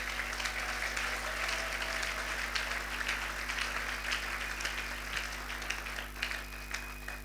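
Audience applause inside a church during a morning service, steady sustained clapping from a large congregation over a constant low electrical hum, with scattered louder claps and brief murmurs of voices.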